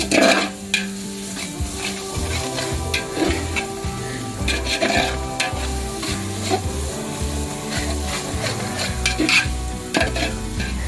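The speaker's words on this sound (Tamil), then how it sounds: "இஞ்சி பூண்டு போட்டோன்னே நீங்கள் நல்லா கிண்டி விட்டுட்டுருங்க, கீழே பிடிக்காத மாதிரி" Ginger-garlic paste frying and being stirred in a large pot for a two-kilogram chicken dum biryani, a steady close sizzle broken by repeated scraping strokes of the spoon, with no talking.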